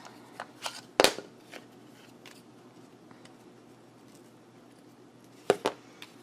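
Scissors snipping a cardboard paper towel tube, a few sharp close cuts near the start and a pair near the end, separated by quiet room tone.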